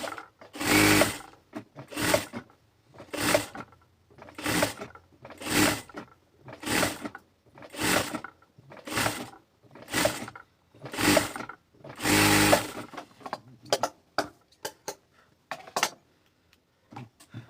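A sewing machine stitches facing fabric around a round neckline for a dress, running in about a dozen loud, close bursts of a second or so each, separated by brief pauses, with lighter clicks and handling noises at the end.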